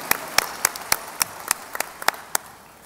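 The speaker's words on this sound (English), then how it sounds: "Please applaud them." Scattered audience applause for graduating high school seniors at a ceremony, heard as a series of sharp, separate claps in a light, slightly distant rhythm rather than a full ovation.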